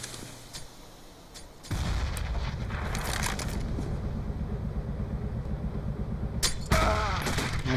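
Gunfire and a grenade explosion in CS:GO during a Virtus Pro versus Hellraisers match, with a sudden loud burst followed by sustained rumbling and scattered sharp shots.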